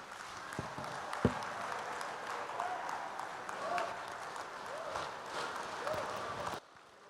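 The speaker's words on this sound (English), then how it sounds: "Another resounding applause for Professor Patrice Lumumba." Audience applause at a speech on African and Nigerian politics, a dense sustained clapping crowd with scattered voices and cheers mixed in, cutting off abruptly near the end.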